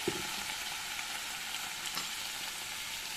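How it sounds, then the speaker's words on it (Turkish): Bulgur and pickled beet dish being sautéed in a pan, a steady broadband sizzle throughout with light stirring scrapes, close and unbroken. "2 dakika kadar kavurduğumuz yemeğimizi"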